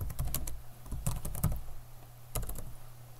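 Computer keyboard keys tapped in short irregular bursts while coding JavaScript for an HTML slideshow, close and moderately loud, with pauses between clusters of keystrokes.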